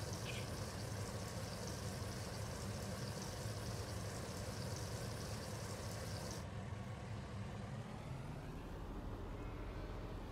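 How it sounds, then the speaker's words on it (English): Water runs steadily into a sheep water trough in Farming Simulator 19, a continuous rushing fill with a low engine-like rumble beneath, its bright upper hiss dropping away partway through. "Start filling our water trough."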